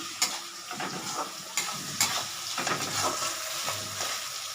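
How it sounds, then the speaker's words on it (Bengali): Prawns with pumpkin, potato and pointed gourd fry in a pan while being stirred, a continuous sizzle broken by periodic sharp scrapes of a spoon against the pan, close and fairly loud, with no talking. "হ্যাঁ, এইবার তো নেড়ে নিচ্ছি"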